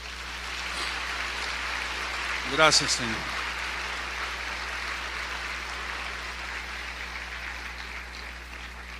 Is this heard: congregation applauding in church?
yes